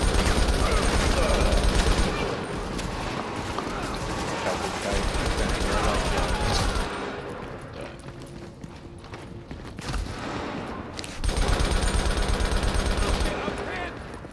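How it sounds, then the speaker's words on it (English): Rapid explosive bullet gunfire from the video game State of Decay 2 crackles in dense bursts, pausing in the middle before resuming loudly, while players talk over the shooting. "really like to know how I'm shooting explosive bullets"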